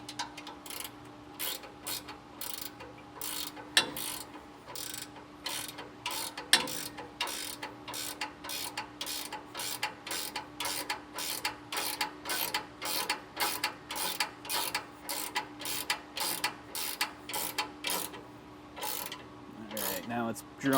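A wrench and hex bit tighten a bolt on a truck's leaf-spring suspension bracket, making a quick run of close, regular metallic ratchet clicks over a faint steady hum.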